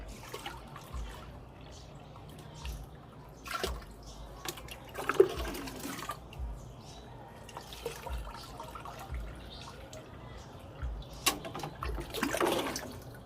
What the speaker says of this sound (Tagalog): Dagdagan na natin ang tap water para sumakto sa 18 liters.